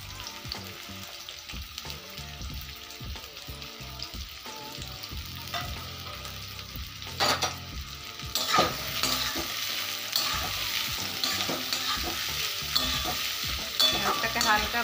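Sliced onions stir-fried in ghee for chicken biryani, a constant loud sizzle with repeated spatula scrapes against the pan, the frying growing louder partway through with no voices.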